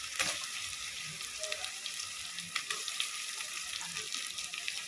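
Two tomatoes fry in a tempering for mutton nurai dabba, giving a steady bright sizzle with faint crackles throughout and no voices.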